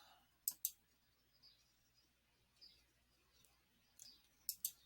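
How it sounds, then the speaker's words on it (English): Soft, crisp mouse clicks close by: a quick double click, then scattered lighter clicks and another quick pair at the end, over near silence. "And let's right mouse click,"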